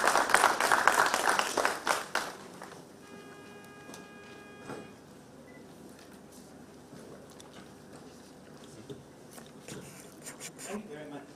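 A conference audience applauds in a hall, with dense clapping for the first two seconds that thins into scattered claps and room noise, then a few more claps near the end.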